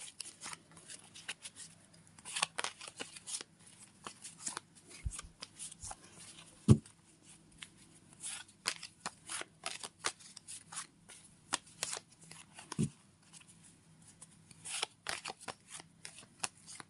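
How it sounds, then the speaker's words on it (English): Tarot cards are shuffled by hand in a steady run of crisp riffling and slapping bursts, close and clear over a quiet room, with a few sharper taps of the deck. "I'm going to shuffle the cards for you"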